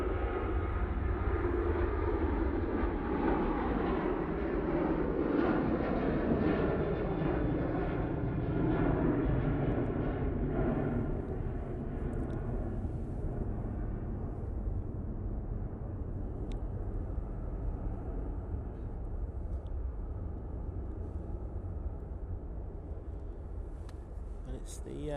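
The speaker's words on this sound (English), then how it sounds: "This is the Ryanair off to Cork using 737-800" A Ryanair Boeing 737-800 bound for Cork takes off from Manchester Airport, its loud jet roar strongest early on and then slowly fading into the distance.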